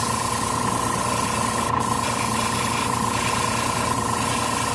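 A steady, close Harder & Steenbeck Colani airbrush hiss sprays paint continuously at about 30 psi without pause, with a faint constant tone underneath and no talking.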